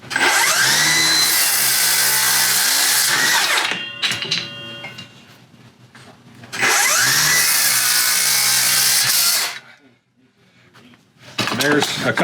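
A Milwaukee M18 FUEL rear-handle 7-1/4-inch cordless circular saw with a 24-tooth Milwaukee blade cuts wood twice, each cut a loud, close, high whining roar of about three seconds, separated by quieter pauses.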